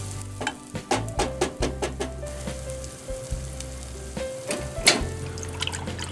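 Spicy cod roe cooking in a pan for udon, with a steady sizzle and repeated stirring scrapes and taps throughout, fairly close and alone with no talk.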